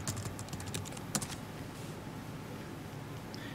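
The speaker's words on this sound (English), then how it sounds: "I'm going to go ahead and type in my teacher's supplied username and my teacher supplied password" Keys clatter on a computer keyboard as a username and password are typed in, a quick run of light clicks with one sharper tap partway, close and fairly quiet over a steady background hum.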